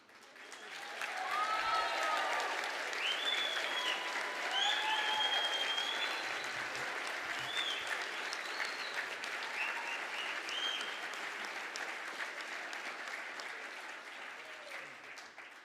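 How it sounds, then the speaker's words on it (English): A graduation ceremony audience breaks into a long, sustained round of applause after the tassels are moved, swelling quickly and holding steady for many seconds in a large hall, with faint cheers and calls rising above it. "I think that's the best round of applause we've had all week."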